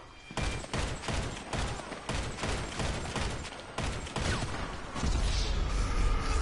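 Automatic gunfire in GTA Online during a heist raid, dense rapid bursts of shots rattling in quick succession, loud and sustained with brief gaps, followed by a heavier rumble near the end.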